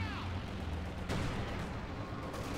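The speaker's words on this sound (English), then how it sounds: "Stuka, close air support, I think." A Stuka close air support strike in Company of Heroes 2 on the Road to Kharkov map, heard as faint, distant gunfire and booms with a descending whine early on and a sharper impact midway.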